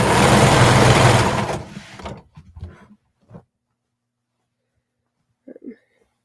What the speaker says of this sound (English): So we're basically sewing a big V now to attach the legs together.